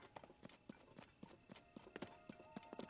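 Horse hooves clip-clop at a steady trot in Zelda: Tears of the Kingdom, with about a dozen even, fairly close hoofbeats and no talking over them.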